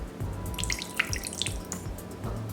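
Two tablespoons of water trickle and splash briefly into soy and oyster sauce at close range, a short pour with a few drips, over faint kitchen background noise.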